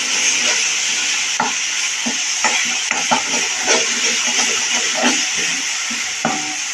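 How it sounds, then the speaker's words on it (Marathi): Masala for a spicy drumstick curry gravy sautéing over a low flame, a steady close sizzle and hiss with scattered soft scrapes and clicks of stirring throughout. "ते मंद याच्यावर परतायचं."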